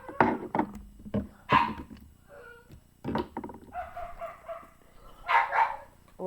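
Neighbors' dogs barking next door outdoors, several sharp barks in irregular bursts at mid distance, with a few yelping, whining cries in between and no talking.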